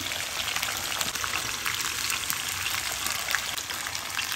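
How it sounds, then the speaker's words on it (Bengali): Spices and dried chilli powder frying with lau shak (bottle gourd greens) in a pan, giving a steady, dense, close sizzle that holds evenly throughout with no talking. "শুকনো মরিচের গুঁড়ো দিয়ে এবার একটুখানি ভেজে নিচ্ছি"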